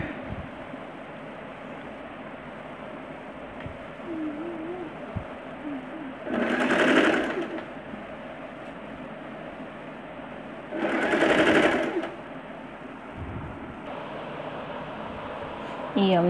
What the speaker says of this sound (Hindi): इसके बाद ये जो हमारी नेक है इसकी हम हेमिंग करेंगे